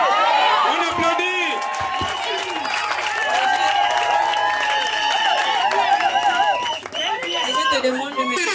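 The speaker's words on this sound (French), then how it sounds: "On applaudit." Applause and crowd noise at a customary wedding ceremony, a steady continuous clapping mixed with cheering, voices and music that fills the whole stretch.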